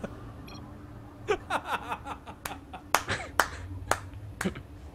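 A few sharp, separate hand claps ring out close by, spaced unevenly, with faint chuckling between them.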